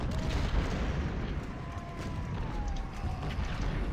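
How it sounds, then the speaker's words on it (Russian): Cannon fire in the American Civil War strategy game Ultimate General: Civil War, a steady low rumbling barrage with a dense booming roar throughout. "Видимо, пушка добила их."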